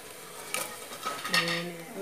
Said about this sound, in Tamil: கிராம்பு, பட்டை, நல்லா இதெல்லாம் பொரிஞ்சு வரணும்.